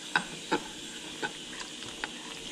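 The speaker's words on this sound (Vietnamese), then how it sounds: "Bây giờ Nicky sẽ trộn cho nó đều." Batter for steamed banana cake being stirred in a bowl, soft scraping strokes with a few light knocks, quiet and close with no speech.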